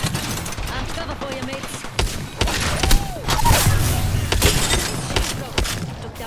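Shotgun blasts from the Mozambique in the video game Apex Legends, several sharp bursts across a busy battle mix with other game gunfire and effects, with voices talking over the action.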